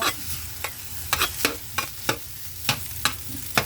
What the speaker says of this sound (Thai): แล้วก็ผัดพริกกับแครอทนิดหน่อยค่ะ